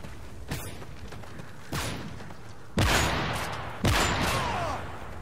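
Sniper rifle fire in a video game: four sharp, loud shots spaced about a second apart, the last two heavier and fuller, each with a short rumbling tail.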